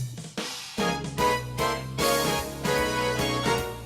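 A keyboard arranger plays a standard in a full-band style, with punchy brass-like chords over bass and drums in a swinging rhythm. The band sound is close, loud and continuous, with no voices.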